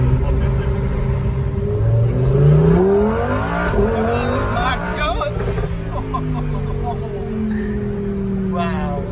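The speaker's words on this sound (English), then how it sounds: "Guys, this car is sick, very fast, it's beautiful." A Lamborghini Huracan Performante sports car engine rises in pitch as it revs and accelerates, loud and close, then settles, while people talk over it.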